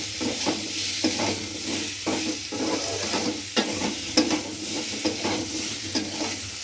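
Turmeric powder being stirred into a frying fish curry of sole and koi with potato, plantain and greens: steady close sizzle under repeated scraping strokes of a spoon against the pan, no talking.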